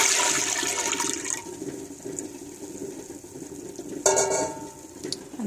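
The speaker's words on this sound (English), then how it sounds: "So first we're going to take the apple juice and we're going to pour it into the pot." Apple juice is poured into a cooking pot in a steady, splashy stream that runs for several seconds. A brief clatter comes near the end.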